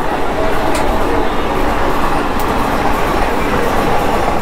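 The Navajivan SF Express rumbles along steadily between Nellore and Vijayawada, a loud, continuous roar of wheels and carriage noise heard from inside a general coach.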